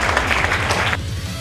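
Applause from an awards ceremony audience, a dense burst of clapping that carries on without a break and then tails off slightly.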